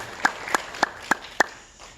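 Sparse claps in a church service, about five separate sharp hand claps spaced evenly over two seconds, moderately close with a quiet room between them and no talking.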